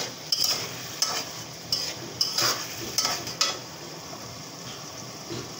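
Prawns with turmeric and salt being sautéed in a pan, with repeated scraping stirs and sharp spatula clinks over a low steady sizzle, close and with no talking.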